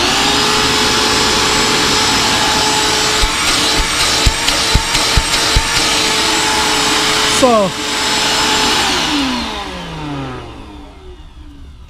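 Hang-on mini 1.5 gallon shop vac in a GMC motorhome, a loud, close steady whine with a few clicks partway through, then the motor winds down in pitch and fades.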